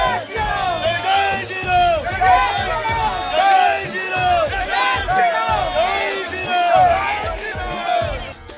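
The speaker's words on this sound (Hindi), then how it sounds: "रामलला के दर्शन को उमड़ रही भीड़।" A large crowd of pilgrims gathering for darshan of Ram Lalla, a loud continuous roar of many voices with rising chants and cheers layered over a dense babble.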